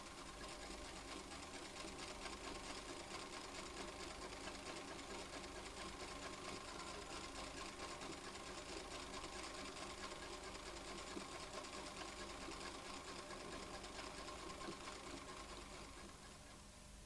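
An old sewing machine runs steadily and continuously with a dense mechanical whir and rapid clatter, close by, easing off slightly at the very end.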